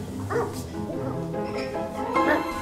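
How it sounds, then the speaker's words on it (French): A dog barks and yips in short bursts at moderate distance, mixed in with people talking and calling out over the barking. "Vous entendez? Un chien."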